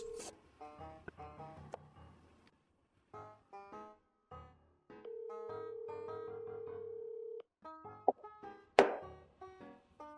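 Telephone keypad tones beep in short bursts, followed by a long steady ring tone, then a few more beeps and a sharp click, all quiet and alone.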